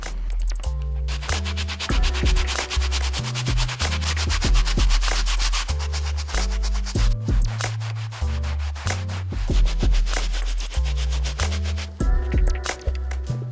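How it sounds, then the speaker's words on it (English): A medium bristle brush scrubs an Air Jordan 1 insole, with steady, close back-and-forth rubbing strokes over a musical background. "then we'll remove our insole to scrub with our medium bristle brush"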